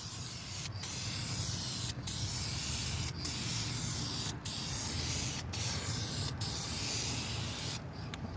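Duplicolor high gloss paint sprayed from an aerosol can onto wheel rims in a continuous close hiss, broken by brief pauses roughly every second or so as each pass ends.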